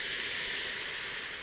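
Water steaming hard in a pan set up to steam an egg, a steady, loud hiss that continues without break and with no talk.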